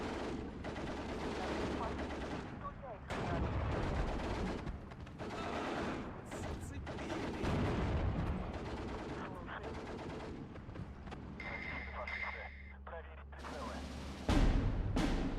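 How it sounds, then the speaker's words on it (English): In a Steel Division 2 Soviet campaign battle at Iasi, sniper fire targets a machine-gun position amid repeated bursts of gunfire and heavier blasts, a busy, continuous wartime din with irregular sharp cracks and booms. "Getting sniper shots onto the MG."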